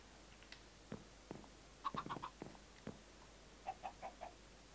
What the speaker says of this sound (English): Oh, I hear chicken.